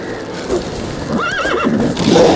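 A horse in The Witcher 3: Wild Hunt whinnies with a wavering, rising and falling neigh in the middle, framed by softer snorts and shuffling.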